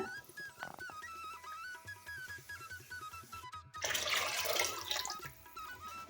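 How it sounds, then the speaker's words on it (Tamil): Water pours into a pot of ground fish curry masala, a close splashing gush that swells midway over background music with no talk. "தேவையான அளவுக்கு தண்ணி சேர்த்துக்கலாங்க"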